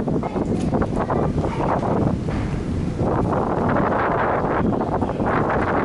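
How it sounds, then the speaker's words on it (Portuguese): Strong wind buffeting a microphone outdoors on a walk toward Miami Beach, Florida, a continuous loud roar with gusty surges throughout. "Vou entrar numa parte que agora vai vir um pouco de vento."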